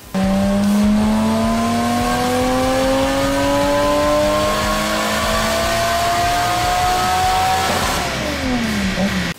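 A Nissan Silvia S15 drift car with an RB engine revs hard and close, its engine note climbing steadily through a long pull before dropping off, loud and alone with a rough exhaust edge.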